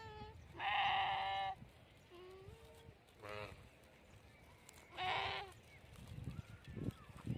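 Sheep bleat in loud, harmonic calls at a goat farm pen where a ewe is followed by her two lambs; three separate bleats come close by, with rustling and brief movement noises between them and someone talking nearby.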